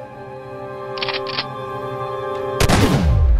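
In the shooting game Super Safari Hunter 2, set in a bar, two quick electronic shot blips are followed by a loud booming blast as the beer mug is hit.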